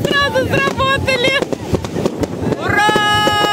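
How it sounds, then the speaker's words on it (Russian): New Year fireworks go off over the Cham towers in Nha Trang, Vietnam: a loud cluster of crackling bursts and pops mixed with nearby voices and excited shouting outdoors. "а на башнях какие-то фейерверки происходят"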